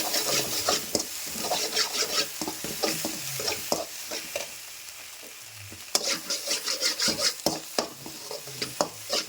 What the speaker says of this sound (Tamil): உப்பு எல்லாத்தையும் போட்டு ஒரு நல்லா கலக்கு கலக்கிடலாம்